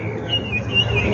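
Birds in Jamaica give a few thin, high chirps over soft outdoor background noise, short calls repeating within a brief moment.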